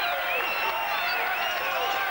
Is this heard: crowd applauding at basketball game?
yes